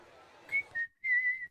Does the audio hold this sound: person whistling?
yes